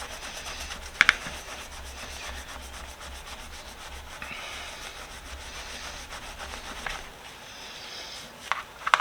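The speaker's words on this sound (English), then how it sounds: "Get this rubbed in there. Try and polish it up." Gyeon metal polish is rubbed into a tool with steady, faint scrubbing strokes that continue throughout, interrupted by a few sharp clicks near the start and end.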